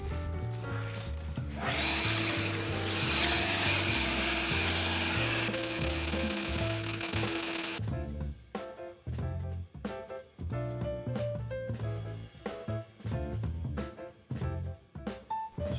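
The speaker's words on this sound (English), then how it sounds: "So now we got a little leaf blower. We'll just see just what this thing can do." A Bauer 20V battery leaf blower blowing leaves outdoors, a loud steady rushing roar with a motor whine for about six seconds, then it cuts off and music plays.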